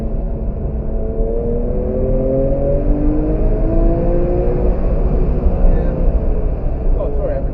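A car accelerates on a race track, its engine note climbing steadily and holding loud and close throughout, with a voice talking over it.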